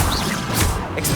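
A Confringo fire-blast spell strikes its target in the Hogwarts Legacy video game, a short crashing whoosh and impact in the middle of busy combat effects.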